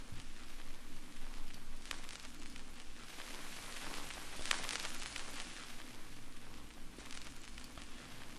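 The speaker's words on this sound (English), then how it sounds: "And I also did it with the vinyl, this vinyl sample here." A vinyl crackle sample used in music production gives a quiet, steady bed of surface noise with scattered pops and ticks throughout.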